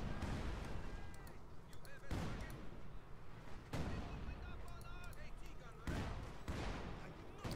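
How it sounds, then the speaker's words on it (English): Field guns fire in heavy repeated blasts during a Company of Heroes 2 battle between German and Soviet forces, with booming shots and explosions landing every second or two over dense battle noise while a commentator talks throughout. "Field guns blasting."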